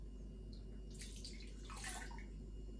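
Milk pours steadily into a pot for a strawberry and banana magnolia dessert, a close, continuous liquid splash that swells and fades over a few seconds, with no talking.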